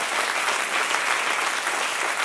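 A church congregation breaks into dense, continuous applause, loud and even from start to finish with no voices standing out.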